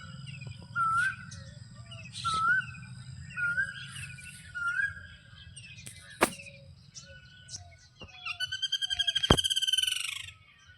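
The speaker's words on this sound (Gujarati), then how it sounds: "પક્ષીઓનો અવાજ" Birds singing on a village morning, a mix of separate whistled calls and chirps near and far over a low background hum, ending in a rapid trilling burst; peacocks and peahens are nearby.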